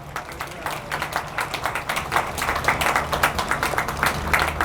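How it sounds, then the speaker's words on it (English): Outdoor crowd at a development ceremony for the Lumpkins Slave Jail site applauding the mayor, with scattered, moderately loud clapping that grows denser and more rhythmic over a low steady background hum. "Let's give him a round of applause."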